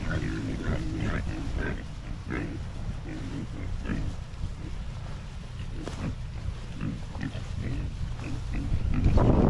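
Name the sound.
pigs grunting while running out to pasture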